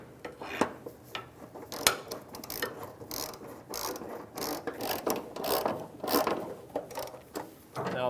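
Ratchet wrench clicking in quick, irregular bursts while tightening a fuel tank strap bolt on a 2012-2017 Toyota Camry, with close metallic ratcheting and occasional tool clatter, no talking.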